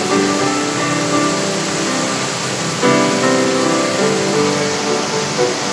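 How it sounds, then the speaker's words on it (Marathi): Bhivtas waterfall in Surgana taluka, Nashik, swollen by heavy rain, gives off a loud, unbroken roar of rushing water with a faint tonal hum layered over it. "सुरगाणा तालुक्यातील भिवतास धबधब्याचं हे अजस्त्र रूप पाहायला मिळालं"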